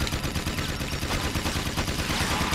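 In Jak 2, Jak's weapons fire a continuous, dense stream of rapid shots that blur into one loud, unbroken roar of gunfire.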